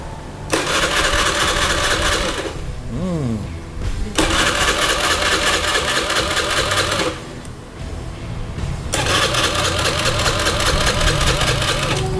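Restored Honda BeAT scooter engine cranking and then firing up, loud close bursts of starter and engine clatter separated by short pauses before it settles into a running idle.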